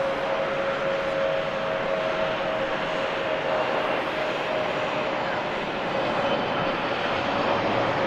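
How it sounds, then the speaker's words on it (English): Rolls-Royce engines roar steadily as a Hainan Airlines Airbus A330 departs Manchester Airport, a loud continuous rumble with a faint whining tone running through it. "Bit of loud noise there from the Rolls-Royce engines on that Hainan."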